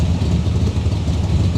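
A 400 hp V8 fitted in an Austin A30 race car idles nearby with a smooth yet slightly lumpy, steady rumble, loud and continuous with no talking.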